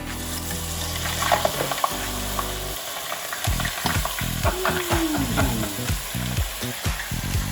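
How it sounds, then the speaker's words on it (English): Cornflake-coated ice cream dropped into hot oil for deep-frying, giving a close, steady crackling sizzle with some clinks and stirring. "they gotta go right into the hot oil, but only for a few seconds"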